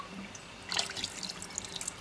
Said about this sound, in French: Et je le fais donc avec l'eau du robinet, qui n'a rien à voir avec l'eau de mer.